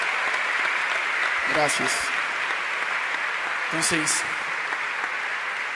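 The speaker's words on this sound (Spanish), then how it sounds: "Damos un aplauso a todo el equipo de misión, toda la gente que está trabajando." An audience at a church forum applauds the mission team, a broad, steady clapping that runs throughout while someone speaks briefly over it.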